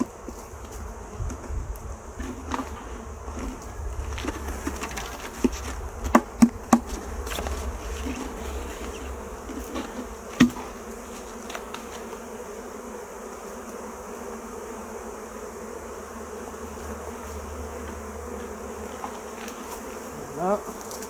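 Honeybees being shaken from a hive frame during a queen introduction give a dense, steady buzzing close by throughout, with a few sharp knocks and taps over the swarm's hum.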